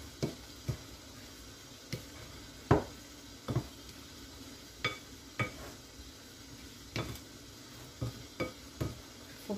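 A spoon works through semolina dough mixed with tuna, onion and cheese in a bowl, giving soft, scattered taps and clinks every second or so over a faint, steady hiss.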